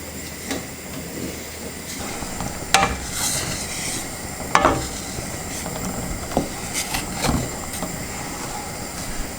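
A pan bottom scraped while deglazing venison bolognese with beef stock, a bubbling, hissing simmer with several sharp utensil scrapes and clanks scattered over the steady boil, close and clear with no talking.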